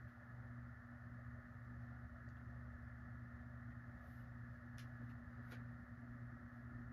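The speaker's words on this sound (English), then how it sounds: "Here's this Encon Petite fan. I'm going to turn on low." An Encon Petite ceiling fan running on its low setting, a steady close motor hum with a faint whir and a couple of brief light ticks, no voices.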